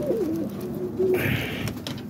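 Nearby birds coo softly in low, warbling calls, a couple of coos heard close up with faint background noise.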